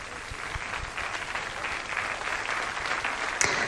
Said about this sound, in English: as soon as the clapping abated